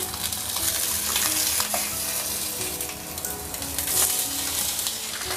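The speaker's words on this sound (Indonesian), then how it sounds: "Panaskan sedikit minyak, lalu goreng atau masukkan ikan." Fish fries in a little hot oil over medium heat, a dense, steady crackling sizzle with scattered sharp pops throughout, close and loud with no speech.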